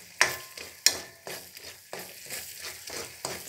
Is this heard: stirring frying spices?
yes